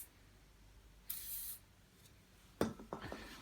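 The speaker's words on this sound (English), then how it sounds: "We're going to spray it around the top and allow gravity to allow it to work in around that button." CRC 5-56 lubricant is sprayed onto the front swivel wheel of a Britax B-Agile stroller, two short hissing bursts, the second followed by faint clicks and handling noises, close and otherwise quiet.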